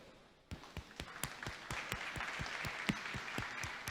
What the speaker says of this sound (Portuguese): Palmas para eles, pessoal.